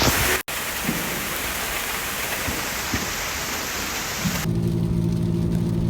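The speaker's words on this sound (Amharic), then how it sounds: "በጣም እየዘነበ ነው።" Heavy rain pours down during a Fourth of July evening, a loud, dense, continuous hiss close by, with a change in texture near the end.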